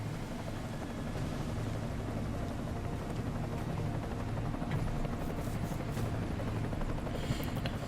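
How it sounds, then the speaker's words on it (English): An enemy helicopter in the video game Deus Ex: Mankind Divided drones with steady rotor noise, a continuous broadband whir that holds level throughout without pause. "Enemy helo sighted"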